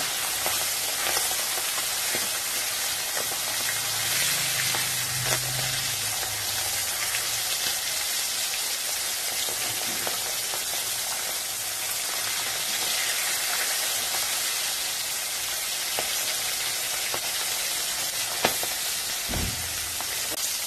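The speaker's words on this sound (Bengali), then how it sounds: "মাছগুলো ভাজা হয়ে গেছে, আমি তুলে নিচ্ছি।" Pomfret fish frying in hot oil, a constant loud, close crackling sizzle that carries on evenly with a soft low thump near the end and no talk.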